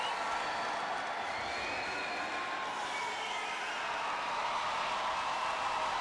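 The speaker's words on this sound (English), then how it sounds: "the noise levels raised to the roof in Maputo as the home team are introduced to the crowd" A packed basketball arena in Maputo roars as the home Mozambique team is introduced at a World Cup qualifier against Senegal, a dense, continuous wash of cheering and clapping that holds steady throughout.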